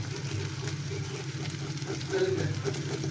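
Bitter gourd (ucchha) with spices fries in oil in a low, steady sizzle that swells briefly partway through, over a faint background hum.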